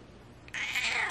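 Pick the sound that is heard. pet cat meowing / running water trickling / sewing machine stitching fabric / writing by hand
pet cat meowing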